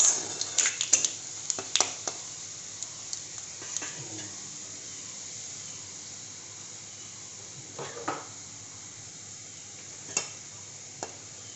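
Garlic and panch phoron frying in hot mustard oil in a pan, a steady soft sizzle with a quick burst of stirring clinks and scrapes at the start and occasional sharp taps later.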